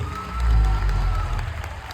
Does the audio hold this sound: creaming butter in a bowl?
no